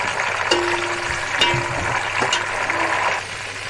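Tomatoes and slit green chillies frying in a pan give a steady close sizzle, with a few short clinks and scrapes from stirring over it.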